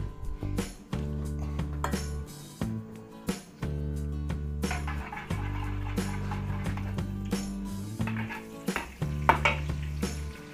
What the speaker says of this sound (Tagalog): maglalagay din po tayo ng konting margarine